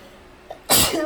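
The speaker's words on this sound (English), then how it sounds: "maybe all my videos I'll be sneezing because allergies" One sharp, loud sneeze from a person with allergies bursts out after a brief quiet intake of breath, close to the microphone against a faint background hiss.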